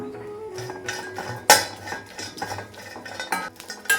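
A metal spoon clinks and scrapes steadily against a frying pan while fish is stirred and roasted, with one sharp clang partway through and repeated light knocks, close and fairly quiet.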